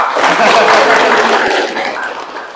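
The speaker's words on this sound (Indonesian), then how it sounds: "Tepuk tangan teman-teman." A group of kindergarten educators gives a short round of applause, clapping fairly loud and then fading, with voices mixed in.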